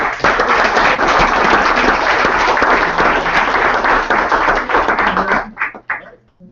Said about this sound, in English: So everyone give them a round of applause.